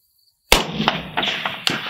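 A single sharp report from a Galil DMR rifle chambered in 6.5 Creedmoor, fired outdoors at a 300 target, bursting loud out of silence and followed by decaying echoes and a few softer knocks.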